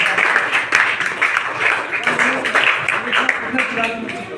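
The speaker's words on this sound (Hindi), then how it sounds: "वर्षा राज के लिए एक बार ताली हो जाए" Applause from the audience at a children's poetry competition at Kilkari Bihar Baal Bhawan greets contestant Varsha Raj, with steady, moderately close clapping filling the hall alongside a little background chatter.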